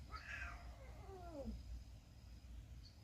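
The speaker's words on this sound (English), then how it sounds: "this is some random cat that just shows up on the porch every couple days." A stray cat on a house porch meows in a drawn-out, falling call, one long meow close by with a faint second cry near the end over low background rumble.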